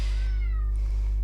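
A pet cat meows once, close and clear, a drawn-out wavering call over a constant low electrical hum, with no one talking.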